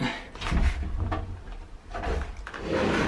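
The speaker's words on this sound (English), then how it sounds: "when I slide the door back and forth" A custom sliding pocket door in a school bus conversion drags against the wall as it is slid back and forth on a sloped parking spot, giving repeated rough scraping and rumbling strokes at close range with no talking.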